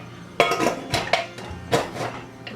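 A metal lid is set onto a cooking pot of coconut milk rice, giving a few clanks and clinks close by with no talking.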